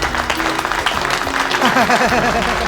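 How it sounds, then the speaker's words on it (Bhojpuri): A crowd breaks into loud, dense applause at a staged household drama, steady clapping throughout with voices mixed into the din, close and full. "तालियां।"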